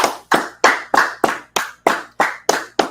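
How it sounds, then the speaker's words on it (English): A group claps hands in unison, ten or so sharp, loud claps in an even, steady rhythm, close by and with no talking. "Let's clap it up. Let's clap it up."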